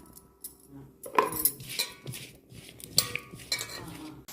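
A spoon stirs cardamom powder, dry coconut powder and ground lentil powder together in a bowl, giving light scraping and intermittent clinks of metal, close and fairly soft, with no talking.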